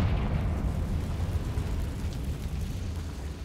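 A Confringo blasting spell explodes in Hogwarts Legacy, a loud, deep rumbling boom that fills the whole moment and slowly decays, heard close with no talking.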